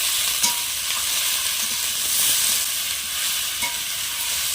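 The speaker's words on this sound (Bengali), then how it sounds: "ডালডাটা দিয়ে বেশিক্ষণ নাড়ব না" Vegetables stir-frying in Dalda sizzle steadily at close range, a continuous hiss with soft scraping stirs and a few light clicks of the utensil.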